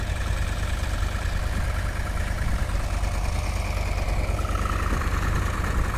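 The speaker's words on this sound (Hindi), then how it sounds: "देखो ये ट्रैक्टर है" A tractor engine runs steadily in an open farm field, a loud continuous low idling drone with a constant mechanical vibration and no pauses.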